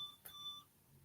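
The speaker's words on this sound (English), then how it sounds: "I'm going to go see if I can turn that alarm off." Electronic alarm beeping faintly in a classroom, a short pair of thin high tones lasting about half a second, heard alone with no talk.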